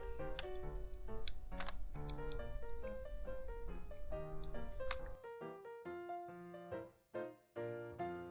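Scissors snip through the sides of a sleeveless shirt in a series of quick, crisp, close cuts with short irregular pauses between them.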